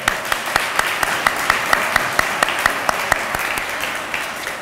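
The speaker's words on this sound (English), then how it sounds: "One more round of applause." An audience applauds for several seconds, the clapping loud and fairly even with crisp individual claps standing out.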